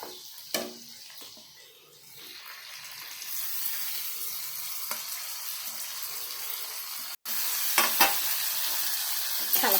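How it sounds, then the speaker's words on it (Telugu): Tomato pulp sizzling in a pan with fried onions, a steady hiss building and continuing with occasional scraping and knocking as it is stirred, no talk over it. "టమాటా గుజ్జు వేద్దాం."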